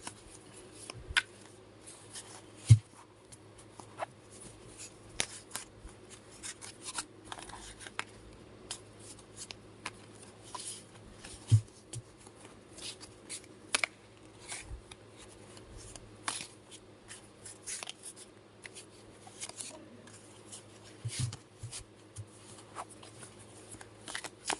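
Tarot cards shuffled by hand, quiet soft riffling and tapping bursts repeating throughout, close up and faint, with little else around.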